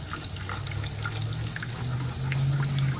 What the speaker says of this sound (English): As you're pouring your boiling water, you make sure that you're also stirring it.